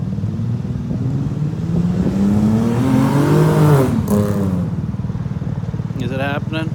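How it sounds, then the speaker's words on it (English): A moped with an 82 cc big bore engine runs close by, its steady buzz rising in pitch as it revs, then settling, with a person's voice heard over it. "This is the bike. This is what it sounds like."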